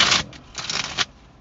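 Tarot cards being shuffled by hand, a few short papery riffles and flicks over a second and a half, close and fairly quiet with brief gaps between bursts.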